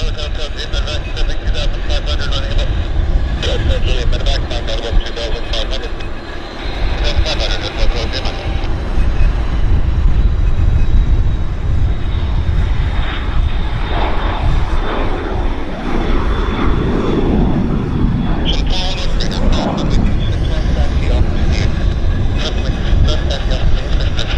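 A Cessna Citation corporate jet departs Vancouver Airport, its engine roar loud and sustained throughout, rising and swelling, with someone talking over it.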